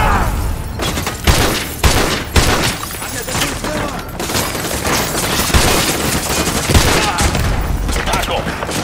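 Dense suppressing gunfire in the Call of Duty: Modern Warfare 2 Remastered Gulag mission: rapid bursts of rifle shots and booms keep up loudly throughout, with voices calling out over the battle.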